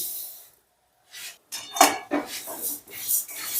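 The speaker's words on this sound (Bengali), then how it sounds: "আমি গ্যাস ধরিয়ে একটা কড়া বসিয়ে দিয়েছি আর প্রথমে মুগ ডালটা ভেজে নেব" Mung dal being dry-roasted in a kadai over a gas flame, heard as a string of short, close scraping and rattling strokes of a spatula against metal, starting after a brief silence.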